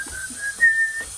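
Someone whistles a short tune nearby, a clear steady pitched line sliding between a few notes over a faint background hum, with no talking.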